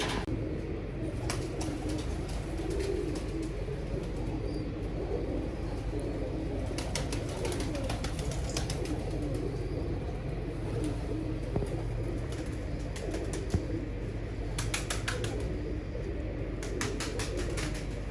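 Pigeons coo softly in a loft in Qasur, their low murmuring calls continuous against a faint outdoor hum, with occasional wing flaps and brief clicks.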